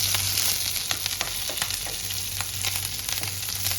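Green chillies and fresh curry leaves fry loudly in a pan of oil for a chicken fry, a dense steady sizzle broken by the scrape and clatter of stirring.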